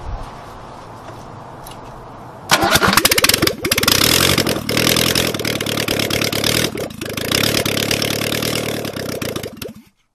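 A 1969 Ford Capri barn find cranks briefly and then fires into a loud, rough running engine. It roars unevenly with a few revs for about seven seconds before cutting out.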